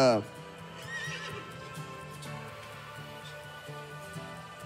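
Draft horses at an anniversary show of the French draft horse breeders' society whinny loudly right at the start, followed by steady hoof clip-clops under an ongoing musical bed.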